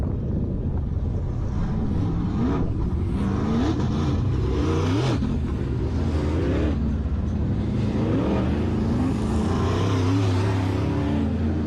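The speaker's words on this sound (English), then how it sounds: "We have 18 cars registered today for the Q104 WISSOTA Midwest Modified second heat" WISSOTA Midwest Modified race cars roll out for their second heat at Lake of the Woods Speedway, engines roaring and revving in rising, sweeping pitches under buffeting wind noise.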